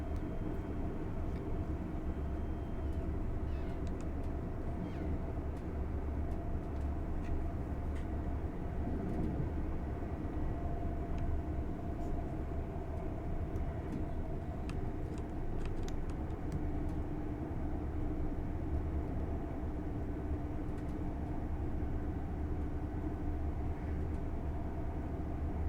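A Lumo train in Train Sim World 5 accelerates toward 100 mph, giving a loud, steady rumble of running gear with faint clicks overhead. No one speaks.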